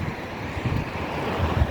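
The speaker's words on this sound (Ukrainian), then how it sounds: "затішок знайшла, бо вітер дуже задуває" Strong wind gusting outdoors near a street market, buffeting the microphone in a loud continuous rumble with uneven surges and thumps.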